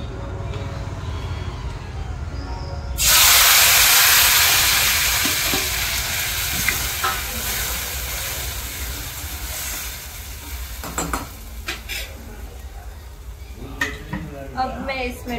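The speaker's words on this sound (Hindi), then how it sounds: "अभी मैंने ऑयल रखा है कढ़ाई में और उसके बाद मैं उसमें डालूंगी टमाटर" Tomatoes dropped into hot oil in a kadhai for Gujarati home cooking set off a loud, sudden sizzle a few seconds in, which then settles into steady frying with occasional stirring clatter near the end.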